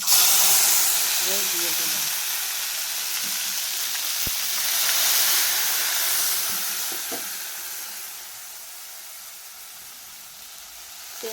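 Spices and oil sizzle steadily in a hot wok, with the oil overheated and smoking; a continuous hiss and frying crackle runs throughout, with brief stirring clinks and a short spoken phrase near the start.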